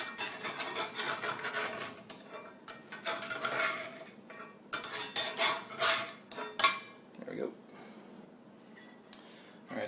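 Egg being flipped in a Lodge cast iron pan: scraping and clinking of a utensil against the iron in uneven bursts, with sizzling underneath and a person talking over it.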